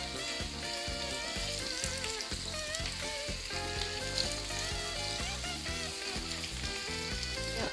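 Kofta kebabs fry in a pan with a steady, dense sizzle that runs unbroken throughout, fairly close and even in loudness, with no talking.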